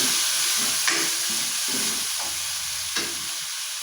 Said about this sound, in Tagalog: ginisa na natin ang corned beef. Ilagay na natin tong patatas.